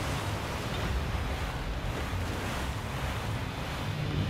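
Lake water in Resident Evil 4 sloshes and washes steadily for the whole stretch, a broad continuous surf-like rush with gusty low rumble and no distinct splashes standing out.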